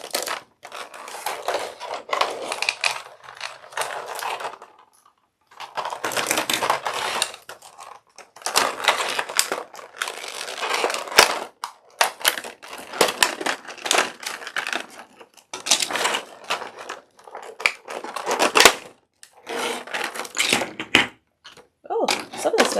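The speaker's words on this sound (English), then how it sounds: "I will try to get all the awful package noise done quickly." Crinkling, crushing packaging rustles loudly in irregular bursts with brief pauses while a toy ice cream truck for a ball-jointed doll is unboxed, zip ties and plastic wrap handled up close.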